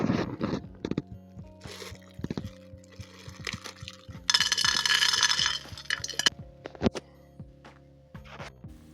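Water is poured into a cooking pot of stewed beef and beans, with liquid splashing and trickling mixed with clinks of utensils and pot, in short close bursts.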